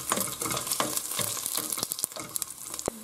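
Garlic fries in a pan with oil for garlic soup, giving a dense, continuous sizzle and crackle with close scraping and stirring knocks throughout, and no talking.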